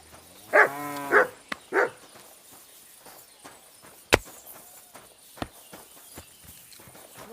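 A dog in a medieval village setting barks in a short burst of three close, loud barks, then falls quiet while hooves clip-clop and footsteps scuff faintly, with a sharp thump or two in the background.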